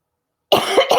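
After a brief silence, a person coughs loudly three times in quick succession, close up.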